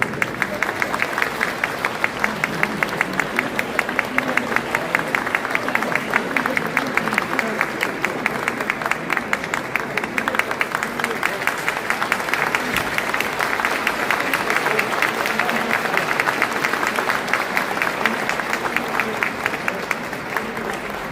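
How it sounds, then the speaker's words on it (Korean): At a mayor's farewell ceremony, an audience gives a children's choir a long, sustained ovation. Many hands clap thickly and evenly, and the applause stays loud and constant for around twenty seconds. "아름다운 공연을 선사해 주신 2012 소년소녀 합창단께 다시 한번 큰 박수로 부탁드립니다."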